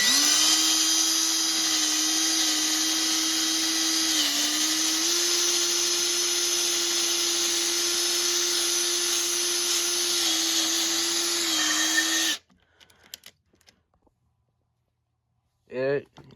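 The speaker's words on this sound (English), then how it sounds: "let's get started on drilling this hole" A RIDGID 18V cordless hammer drill whines steadily and loudly for about twelve seconds while drilling a hole, pitch dipping briefly as it bogs down, then stops abruptly, followed by faint clatter and a short whir.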